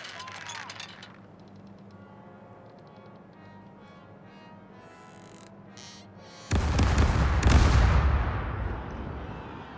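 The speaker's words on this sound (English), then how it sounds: "The right side, ready to fire! The left side, ready to fire!" Ship cannons fire a broadside in Caribbean Legend: after a quiet stretch with a voice, a heavy rolling volley of booms erupts and rumbles on for several seconds.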